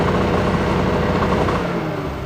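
A car engine with fully electronic ignition held against its electronic rev limiter, a loud, steady, buzzing high-rev drone that barely varies for a couple of seconds.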